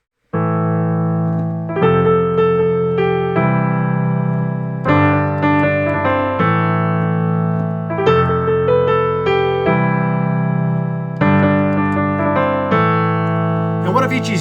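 Synth melody with repeated notes and quick grace notes, playing as sustained, stacked chord-like tones that change in steady blocks every second or two, loud and alone throughout.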